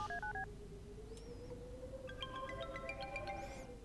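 A phone being dialed gives a quick run of DTMF keypad beeps, followed by a steady tone and further bursts of dialing tones, quiet and close.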